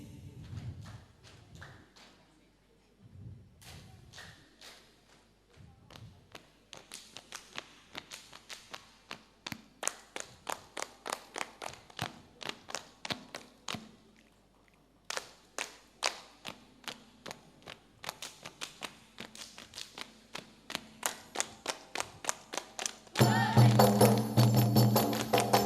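Saman dance performed by junior high school students at a school graduation event: bursts of rhythmic synchronized hand clapping and body slaps, speeding into rapid trains of sharp claps, fairly close, with a louder crowded wash at the end.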